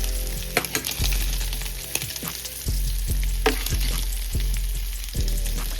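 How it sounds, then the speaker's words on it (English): Beef sausages sizzling loudly in a frying pan as they crisp, a dense continuous crackle broken by repeated clacks and scrapes of a utensil against the pan, close and without talk. "I'm just about to let my sausages sit, get all crispy"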